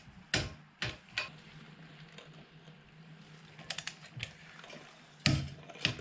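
A torque wrench is tightening bolts on a vehicle's steering knuckle, giving several sharp, close clicks at irregular intervals over quiet mechanical handling.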